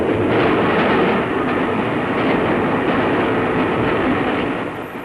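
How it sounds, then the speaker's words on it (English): A 1939 LMS steam train runs on rails with a loud, dense, continuous rumble and rattle close by, fading slightly at the end. "LMS trains are starting on their journeys"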